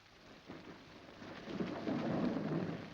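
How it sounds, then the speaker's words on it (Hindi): Steady rainfall hisses softly while low thunder rumbles and swells in the background, growing louder toward the end, with no voices present. "बारिश हो रही है"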